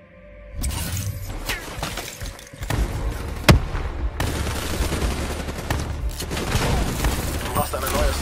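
Gunfire in the first-person shooter Call of Duty: Black Ops 3 rattles in loud bursts and single sharp shots. The shots come over a dense, noisy battle din with an impact boom partway through, and voices sound underneath.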